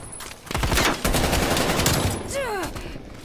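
Hip-fired guns in Call of Duty: Black Ops Cold War crack off in a rapid burst of close, loud shots against recruit bots, ending with a short trailing electronic chirp.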